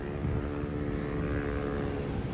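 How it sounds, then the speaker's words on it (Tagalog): A flying drone gives a steady, loud propeller whir close by, a continuous buzzing hum that holds even throughout with no talking. "papupuntahin ko na dito yung drone natin mga kamigo"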